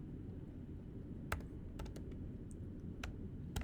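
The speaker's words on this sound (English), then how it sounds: "actually I don't want to keep typing." Keys clatter on a computer keyboard in a handful of separate, crisp clicks spread across a quiet room tone, fairly close and with no voices.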